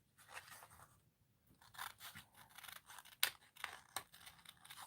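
Scissors cut out a stamped paper image for cardmaking, producing a series of crisp close snips and soft paper scraping in an irregular rhythm, fairly quiet with no talk.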